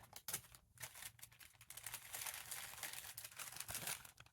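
A paper bag holding small jewellery items and sweets has its top folded over, giving close, dry crinkling and rustling paper sounds throughout with brief crisp creases and no talking.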